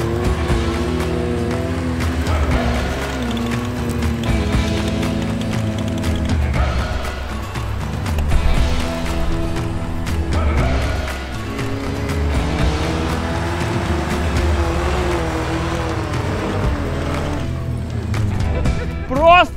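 An off-road SUV, a UAZ Patriot or Derways Cowboy, labouring up a hill, its engine droning and rising in pitch with mechanical clatter, while people talk over it throughout.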